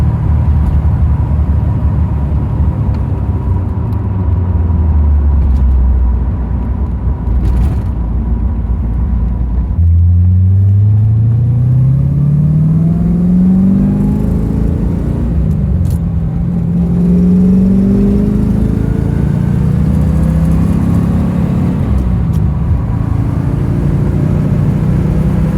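A 1969 Corvette V8 accelerates on the road, its deep engine rumble rising through the gears with clear shifts in pitch, loud and steady from inside the car.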